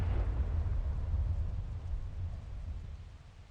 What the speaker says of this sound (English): Countless shells come down with the rain, exploding the moment they contact the ground and walls.